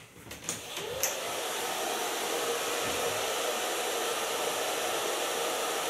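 A hair dryer fitted with a large diffuser with soft pins blows steadily on hair, starting with a few short bursts before settling into a continuous loud airflow whoosh.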